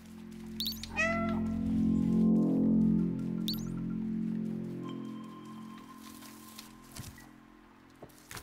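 Cat meowing in the video game Stray, a short meow near the start over a low rumbling game soundscape, followed by faint ticks and clicks, no talking.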